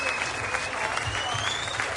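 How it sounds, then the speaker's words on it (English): Applause from a crowd keeps going as a steady wash of clapping, with a faint high tone gliding through it and no voices rising above it. "I think it's still the applause that is going on"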